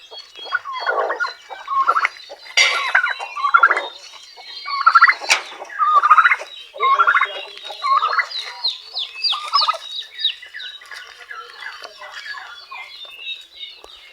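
A flock of Plymouth Rock chickens calls continuously, with overlapping quacks and chattering squawks arriving in rapid irregular bursts, fairly close and loud, with no talking.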